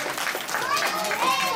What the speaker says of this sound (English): Can you guys clap for him, please?